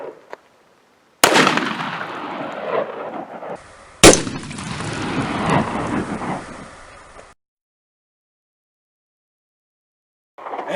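A .500 S&W Magnum revolver fires a 500-grain semi-wadcutter into a pumpkin: two sharp, loud blasts about three seconds apart, each with a rolling echo that fades into silence.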